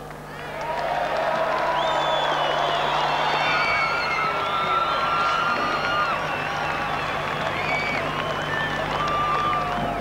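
Stadium crowd at a 1991 New Zealand versus Australia rugby league test in Brisbane roars and cheers continuously, a dense sustained wall of voices with whistles and shouts, loud and steady throughout after a quick swell at the start.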